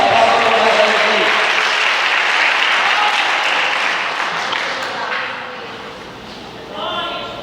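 Church congregation applauding during a Portuguese-language sermon, a dense, loud wash of clapping that fades toward the end, with voices mixed in.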